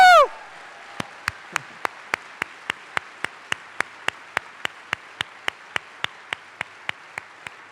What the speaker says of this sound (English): Let's give a great round of applause to Paul.